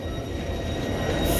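A Tyne and Wear Metro train pulls into a platform at Sunderland station with a steady, loud rumble of wheels and motors, building slightly as it draws closer and ending in a brief brake squeal.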